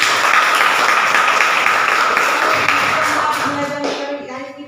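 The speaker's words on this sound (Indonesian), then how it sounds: "Tepuk tangan untuk kita semua." Classroom applause after a closing prayer, a group clapping steadily before the sound thins and fades out toward the end.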